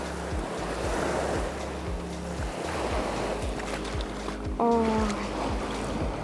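Warm Indian Ocean surf at a Maldives resort beach, a steady wash of waves with wind noise against the microphone and a low rhythmic thumping underneath, while a brief tonal hum rises near the end.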